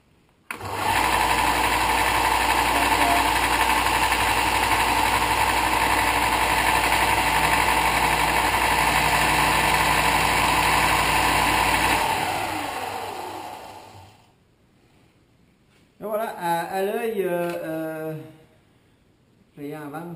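A Mastercraft 55-3559-4 belt sander runs loud and steady with a high motor whine for about twelve seconds, then winds down to silence before a voice speaks briefly.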